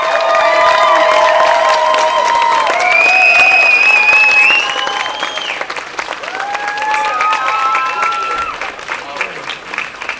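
Audience applause at a Sea No Evil 2012 event, a steady wash of clapping with cheers and whoops, loud at first and easing slightly, with voices calling out over it.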